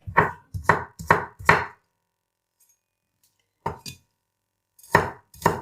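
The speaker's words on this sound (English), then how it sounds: "Here's a piece of ginger, just a little bit. Just cut it like this." Knife chopping a small piece of ginger finely on a board: four quick sharp chops in a row, a pause, then a few more scattered close, loud cuts, with no talking.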